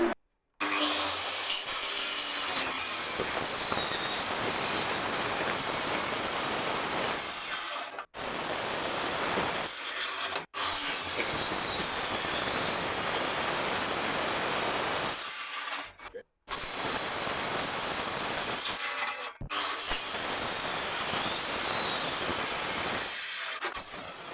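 Cutting out the front of a steel marine engine belt guard with a power cutting tool, which gives a loud, sustained hissing grind in long passes broken by brief pauses.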